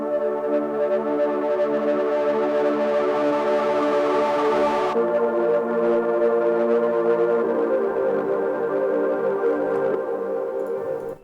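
A distorted synth pad holds dense, buzzy sustained chords at a steady loudness, gritty and wide, shifting harmony around the midpoint and again near the end, with no other sounds.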